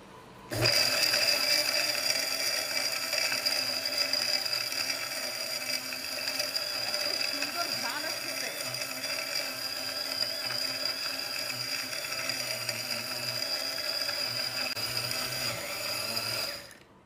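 A kitchen blender whirs steadily for about sixteen seconds, churning orange peel, raw turmeric powder and saffron into a face pack. The motor drone is close, loud and even, then cuts off abruptly.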